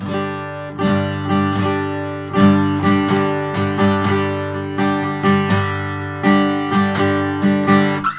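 An acoustic guitar strums full chords over all strings, steady rhythmic strokes ringing loudly and fairly close, with no voices.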